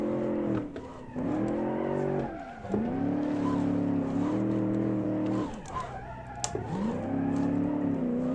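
An 80's car built in Automation and driven in BeamNG revs hard through a stepped run of gears, the engine note climbing, dropping at each shift and climbing again, loud and close with faint tire squeal in between.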